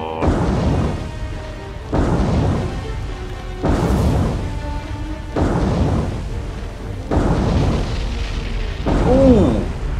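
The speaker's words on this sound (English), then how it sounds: "It was a very cheeky magazine explosion" A warship's magazine detonates in a naval battle video game featuring the Imperial Japanese Navy, heard as a string of heavy, rumbling booms at a steady pace over ongoing battle noise.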